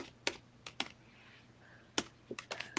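Typing on a computer keyboard, with scattered key clicks and short bursts of strokes at an irregular pace, close and fairly quiet over a faint room hum.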